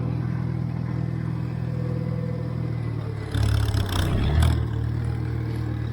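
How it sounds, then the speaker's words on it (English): Farm tractor engine running steadily while pulling a sprayer, a low continuous drone with a louder surge and rattle partway through, close by and with no talk. "it's amazing how much better this tractor runs when it's got gas in the tank"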